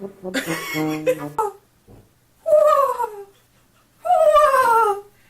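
A dog whines in three drawn-out, falling cries, the first longer and wavering, with brief quiet gaps between them.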